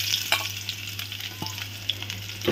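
Onions dropped into hot oil that already holds a bay leaf, for a koi fish dish with vegetable stems, give a close, steady sizzle with scattered crackling pops and light stirring.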